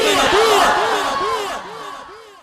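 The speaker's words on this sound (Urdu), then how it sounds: "اب میں نعرہ لگواتا ہوں، تاج و تخت ختم نبوت" A large crowd roars back a religious slogan in unison, a loud, massed chant of rising and falling voices that swells at the start and fades over a couple of seconds.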